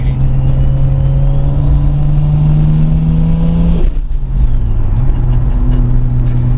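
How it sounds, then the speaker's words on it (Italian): Toyota Supra with a single-turbo 2JZ engine making 600 hp, running loud and close with a steady revving drone that rises in pitch, breaks off sharply near four seconds, then settles back to a lower hum. "Davanti a me il leggendario, iconico motore 2JZ GTR."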